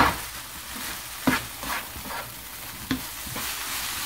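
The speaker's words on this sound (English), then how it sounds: "all the egg is fried" Eggs fry in a pan with a continuous soft sizzle and crackle, broken by a few sharper pops and scraping sounds, with no talking.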